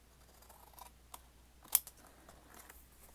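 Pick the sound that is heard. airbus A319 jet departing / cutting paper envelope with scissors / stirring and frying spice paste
cutting paper envelope with scissors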